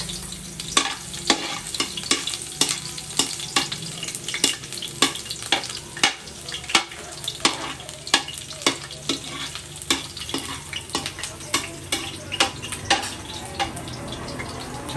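Garlic frying in a pan while a utensil stirs it, with steady sizzling and a regular run of sharp scraping strokes close up, no voices.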